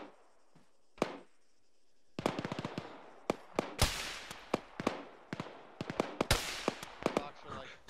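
Gunfire in an Arma video game, a ShackTac session in Guyosabir Valley: sharp individual shots and short bursts crack out irregularly, some close and loud, others more distant, with a quiet lull before the firing picks up.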